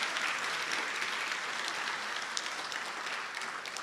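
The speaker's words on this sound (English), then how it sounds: "Would you give another round of applause to all of our elected officials?" An audience applauds elected officials at the ribbon-cutting ceremony for the Martin Luther King Jr. Center, a dense, even wash of clapping that holds at a steady level from start to finish.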